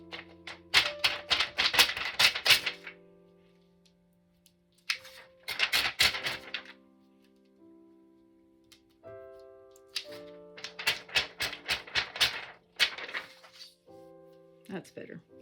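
Paper torn slowly by hand to make a deckled edge, heard close as three separate crackling bursts of ripping with quiet pauses between them and soft steady tones in the background.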